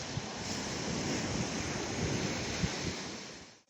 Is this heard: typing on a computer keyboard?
no